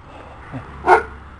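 A dog barks in a garden: one short, loud bark close by, preceded by a softer yelp, over faint background noise.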